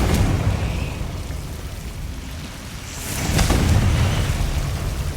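In Hogwarts Legacy, a Confringo spell blows up as a loud, broad rumbling roar that eases off, then swells again into a second heavy surge.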